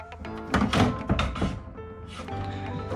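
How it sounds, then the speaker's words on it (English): A slide-out garbage can in a DIY school bus conversion is pulled open, giving a few soft wooden thunks and a brief sliding rumble, close and moderately loud. "Over here we have slide out garbage can."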